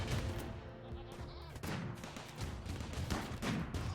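Gunfire and mortar fire in the video game Rimworld, a dense, steady barrage of rapid shots and thuds with bursts continuing throughout, fairly low in level.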